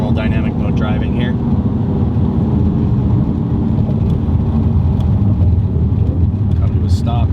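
Audi B8 RS5 with its 4.2L V8 and a valved 2.75-inch cat-back exhaust, driven normally in dynamic mode; a steady, loud low engine drone and road roar from inside the car, continuous throughout.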